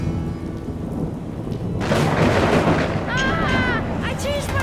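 Thunder rolls loudly in a rainy children's cartoon about trains, building into a deep rumble over steady rain, with a character's voice briefly audible.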